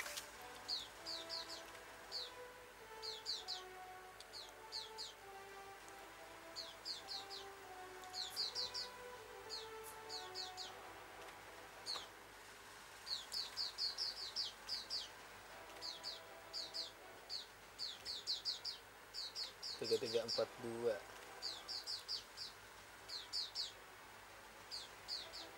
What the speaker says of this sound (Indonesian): suara burung bapak gua itu